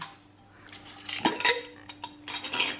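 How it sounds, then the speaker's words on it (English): Paper number slips rattled inside a glass mason jar with its lid on, a short burst of clinking and shuffling that comes in two or three quick shakes, fairly close. "in my mason jar, I'm just going to put the top back on and just give it a little shake just to mix them up"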